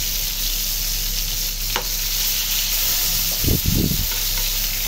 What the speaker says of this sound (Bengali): দেখি ভাজা হয়েছে কিনা।